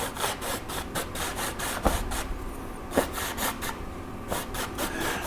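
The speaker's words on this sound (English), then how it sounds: "that sound is my finger dragging on the canvas" A finger drags across a painting canvas in a run of close, rhythmic rubbing strokes, soft scrapes repeating steadily with brief pauses, with no voices.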